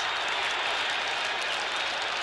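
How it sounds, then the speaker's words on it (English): A rugby stadium crowd at a 1974 South Africa versus British Lions test match applauds and cheers in a dense, continuous roar of clapping that holds steady throughout. "The crowd going mad."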